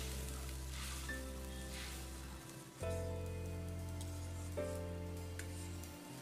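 Ginger, garlic and green chili paste fries in a pan for a dhaba-style pakoda kadhi, giving a steady close sizzle with brief stirring; there is no speech, and a low hum runs underneath.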